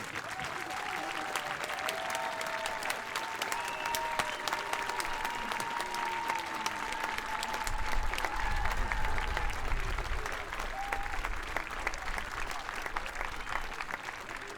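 Sustained audience applause for dancers and singers at an outdoor community celebration, a dense steady clapping crowd that swells briefly toward the end, with a faint tone held underneath.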